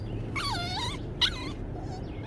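A small female dog whines in two drawn-out, wavering high cries, the second shorter with a sharp yelp at its start, followed by a faint trailing whimper, close and fairly quiet over a low background hum.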